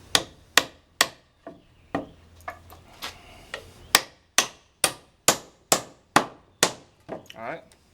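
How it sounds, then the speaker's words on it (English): A nail is toenailed at an angle through a wooden rafter into the plate with a hammer, a run of about fifteen sharp, ringing blows, mostly at a steady brisk rhythm with a few short pauses, close and loud. "that's 1 toenail into the plate, and then 2 into the joist."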